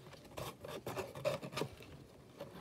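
Part of a fidget box vending machine being cut, a rasping, sawing scrape in short repeated strokes, close and fairly quiet with no talking.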